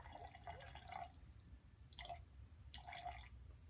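Liquid being poured into a graduated cylinder to measure 100 milliliters of cyanotype solution, heard as three short, quiet trickling bursts separated by pauses, with no talking.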